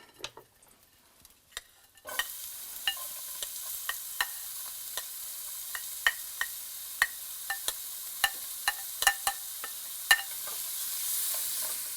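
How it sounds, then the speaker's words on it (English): Onions hit hot olive oil in a pan: after a quiet start, a sudden burst of sizzling settles into a steady hiss, with frequent light clicks and taps of stirring up close. "So we have to add a little bit more olive oil to the pan here. And now the onions go in."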